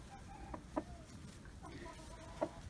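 Chickens and roosters clucking in a backyard coop, a few short clucks standing out at intervals over a low, steady background murmur.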